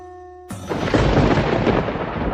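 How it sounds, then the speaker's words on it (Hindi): Loud, sustained thunder with heavy unseasonal rain bursts in after a half-second of quiet, a dense rumbling roar that holds steady to the end, with no voices. "स्वामी, ये बिना मौसम की गरजती हुई बारिश हमें क्या संकेत देती है?"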